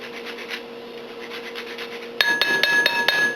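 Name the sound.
zesting citrus with a zester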